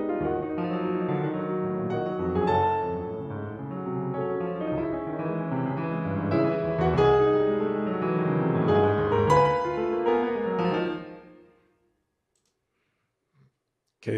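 A VSL Yamaha CFX Synchron virtual concert grand piano plays a rich chordal passage for about eleven seconds, then the notes decay into silence.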